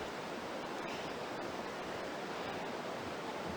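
Steady, broadband rushing of falling water from a waterfall in the Aare Gorge, heard from nearby, continuous and even throughout.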